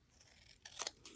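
Scissors trim paper for an art-journal collage in a few quick, soft snips, faint and close, in a quiet room.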